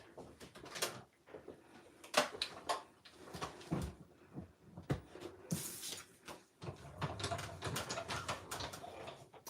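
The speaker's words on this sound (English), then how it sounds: "I'm gonna pull in the machine and I'm gonna die cut that out" A die cutting machine running paper through for a Stampin' Up! card project, making a string of clunks, clicks and rolling mechanical rattles up close, with soft handling noises between them.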